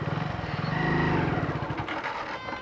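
A motorcycle engine runs loudly and close, its steady throbbing idle swelling as the clutch is dropped in gear to pull away, then settling back into a rough, pulsing beat.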